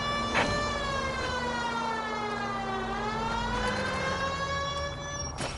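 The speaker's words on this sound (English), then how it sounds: "I've always found the siren useful in situations like this." A police car siren in the video game L.A. Noire wails steadily at loud volume, its pitch slowly falling and rising again, with faint traffic noise beneath it.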